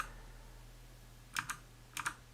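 A keyboard shortcut is pressed on a computer keyboard: two quick pairs of crisp key clicks, close and fairly quiet, over a low steady hum with no talking.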